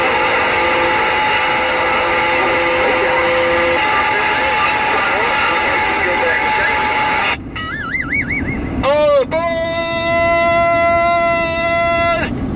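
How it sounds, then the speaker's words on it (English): A loud rumbling train rolls past, then several blaring horn blasts sound, one wavering, followed by a long sustained horn chord. "All aboard the circus train!"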